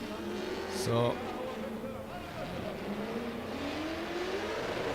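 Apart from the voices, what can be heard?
Nissan 350Z V8 drift car at speed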